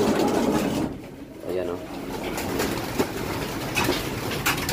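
Club racing pigeons cooing together in their loft, a soft continuous murmur of coos under someone talking close by.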